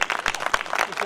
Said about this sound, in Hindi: इसके लिए तालियां जरूर बनती हैं।